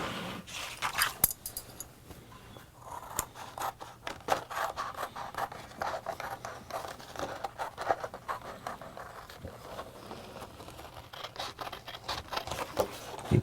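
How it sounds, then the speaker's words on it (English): Scissors cut out a sandal sole with quiet, rapid crisp snips and scratchy rustles that continue unevenly throughout, faint and close, with no talk. "then we're going to cut it out with a pair of scissors."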